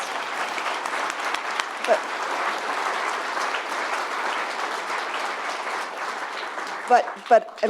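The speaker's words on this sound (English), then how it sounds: "thank you for the applause" Steady applause from a gala audience at a Global Santa Fe event, sustained and even for several seconds with a few louder claps near the end, no talking over it.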